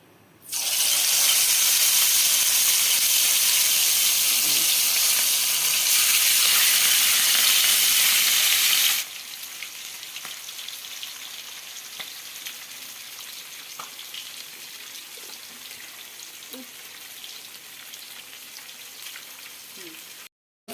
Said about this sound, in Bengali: মাছটা মেরিনেট করে ফেলি তারপর এরকম লাল লাল করে ডুবো তেলে ভেজে নিই